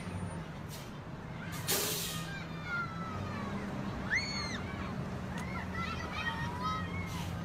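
School bus air brakes give a sharp hiss that stands out above steady traffic rumble, with faint squeaks and chatter around a roadside bus stop.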